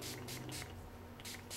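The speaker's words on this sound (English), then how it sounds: "spray it in the chambers of the cylinder. Each one I'm going to do." Gun cleaner is sprayed into the cylinder chambers of a Ruger SP101 .357 Magnum revolver in several short, close hissing bursts, faint and separated by brief pauses, with no talking.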